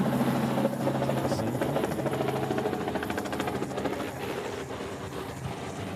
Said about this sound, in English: Another chopper coming over ahead.